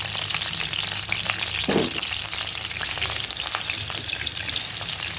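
Onions fry in a pan in a home kitchen, a continuous dense hiss and crackle of hot oil with a brief stirring scrape partway through, close and steady throughout without speech.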